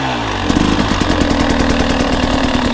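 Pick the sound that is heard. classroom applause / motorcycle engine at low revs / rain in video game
motorcycle engine at low revs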